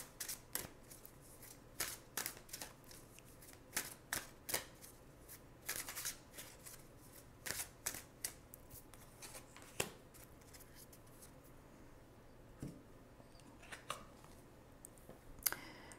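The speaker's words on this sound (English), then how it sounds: "So let's pull a card for spiritual self or emotional self." Tarot cards are shuffled close up in quick irregular bursts of crisp riffling and snapping, with short pauses between, quiet and with no talking.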